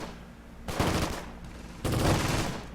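Pioneer infantry open fire from a distance in the Close Combat wargame, two rattling bursts of small-arms gunfire, each lasting about a second, with no talk.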